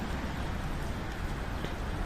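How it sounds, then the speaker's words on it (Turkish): Steady rain falls outdoors as a soft, continuous hiss with faint patter, fairly quiet and unbroken throughout, with no talk. "Yağmur da yağıyor."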